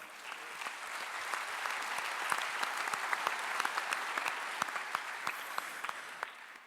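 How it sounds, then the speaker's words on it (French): Audience applause at a French presidential back-to-school youth event, a steady dense patter of many hands clapping throughout at moderate volume, with no talk. "On peut les applaudir"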